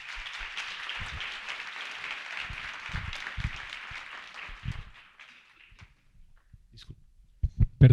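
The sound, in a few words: audience applause for the speakers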